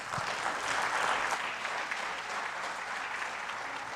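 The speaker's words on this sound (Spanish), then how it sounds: "Un fuerte aplauso, por favor." Sustained applause from the audience at a judicial conference on intelligence and cybersecurity in Mexico, a dense steady wash of many hands clapping at moderate volume with no speech.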